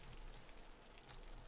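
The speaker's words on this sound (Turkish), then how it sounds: "Yağmur yağıyor aslında." Rain in the city-building game Cities Skylines falls as a steady, dense patter of drops, soft and continuous without a break.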